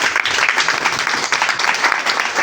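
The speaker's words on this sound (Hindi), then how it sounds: "तो हम चाहते हैं कि गुरु जी के लिए एक शानदार ताली हो।" Audience applause for the guru at an AWPL Topaz party, a dense, steady wash of many hands clapping together, loud and close, sustained for the whole stretch with no break.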